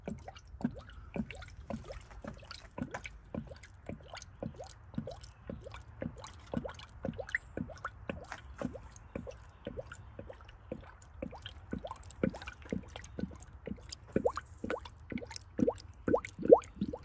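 Coolant drips and gurgles through a no-spill radiator funnel in a quick, steady stream of small plops, close up and fairly quiet, with no talking.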